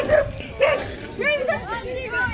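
A dog yips and barks in short, excited bursts at a rural dog vaccination event in Alagoas, Brazil, with people talking and a bit of crowd chatter mixed in.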